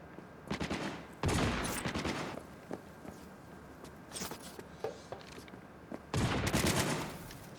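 Bursts of gunfire from a firefight in Cyberpunk 2077, with a sniper shooting from behind a van, come as several loud, clustered volleys separated by quieter gaps, with scattered single cracks between them.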